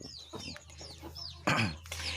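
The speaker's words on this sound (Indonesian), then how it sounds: "Kandang sederhana penangkaran ayam hutan hijau." Green junglefowl in a simple breeding cage cluck and chirp in short, rising calls, several quick notes close by, with one louder burst midway against a quiet background.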